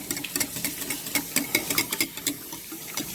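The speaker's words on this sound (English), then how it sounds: "So I'm going to whisk this all together here." Whisking beef stroganoff ingredients in a bowl, a quick, steady run of light clicking strokes at close range, repeated rhythmically without talk.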